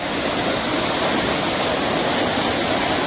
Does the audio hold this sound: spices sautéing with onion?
no